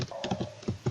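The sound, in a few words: typing on a computer keyboard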